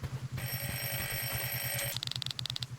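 An old-style telephone bell rings in a pizza delivery video game, a long continuous trill followed by several short, sharp repeated bursts over a faint low pulsing background.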